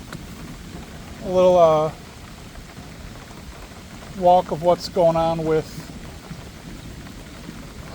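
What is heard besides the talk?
heavy rain during a major thunderstorm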